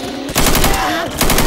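Automatic gunfire in Left 4 Dead 2, with loud rapid bursts that start after a brief pause and run almost continuously, then break off and resume near the end.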